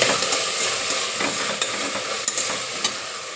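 Turmeric powder being stirred into onion flower pulao in a hot pan, a continuous close sizzle with scraping spoon strokes against the metal.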